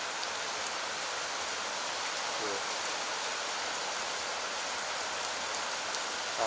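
Steady rain falling in a rural outdoor setting during the dry season, a dense even hiss of drops holding level and close throughout, with no voices over it.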